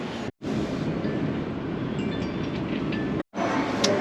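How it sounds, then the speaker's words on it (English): Steady rumbling of a Beijing metro train in motion, continuous loud broadband noise with two brief silent gaps, faint rattles and squeaks over it. "the metro systems are so good, there's like 1 train every few minutes as well"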